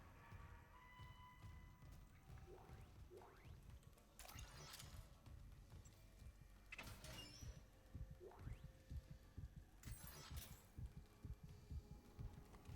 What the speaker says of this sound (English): What's that heartbeat, though?